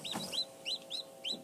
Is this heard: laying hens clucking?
yes